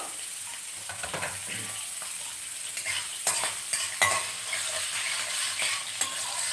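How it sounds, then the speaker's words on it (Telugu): Spices for a tempering crackle and sizzle in hot oil in a pan, a steady close frying hiss with brief stirring scrapes and pops, while onions are being chopped for a healthy green gram (pesalu) curry. "కొంచెం పోపు బాగా వేగాలి కదండి"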